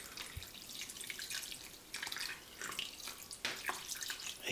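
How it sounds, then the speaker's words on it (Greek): Water pours steadily into a pan of pork cheeks being readied for a woodfired oven, a soft continuous splashing and trickling stream that stays close and fairly quiet throughout with brief changes in flow. "πριν βάλουμε τα μάγουλα στο φούρνο θα προσθέσουμε νερό"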